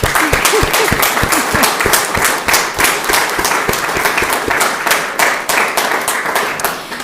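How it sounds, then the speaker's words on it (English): Sustained audience applause in a city council chamber in Lawrence, many hands clapping densely and steadily for about seven seconds, loud and close with no talk over it. "That deserves a round of applause."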